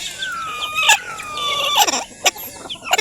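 Chickens cluck and squawk on a small native-poultry farm, with a rooster-like call and several sharp, close bursts over steady background clucking.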